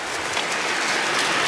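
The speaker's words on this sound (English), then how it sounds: "We've been pushing it hard in the rain this morning." Steady rain falls around walkers on the Camino Frances near Portomarin, crossing the Rio Mino bridge in November, a dense continuous hiss that stays even throughout with no talk.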